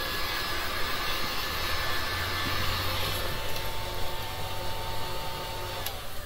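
A heat tool blows onto liquid resin, producing a loud, continuous airy whoosh with a slight motor whine that stays steady for several seconds.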